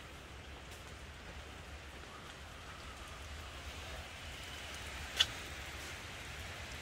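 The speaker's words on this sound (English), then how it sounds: "it is pouring rain." Pouring rain falls outdoors as a faint, steady, even hiss with one brief sharp tap near the end and no voices.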